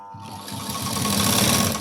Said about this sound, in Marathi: आणि आता पूर्ण अशी शिलाई देऊन घ्यायची